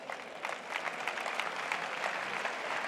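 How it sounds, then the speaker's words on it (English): A crowd at a party congress claps steadily and fairly quietly, the applause a dense even patter of many hands heard from some distance, with no voices standing out. "give you a big round of applause."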